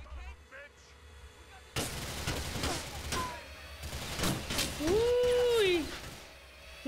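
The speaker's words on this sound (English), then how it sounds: "Who is shooting us?" Gunfire in GTA IV The Ballad of Gay Tony, a sudden burst of loud shots and booming reports breaking in during a drive, with someone talking over the chaos and a rising tonal whine near the end.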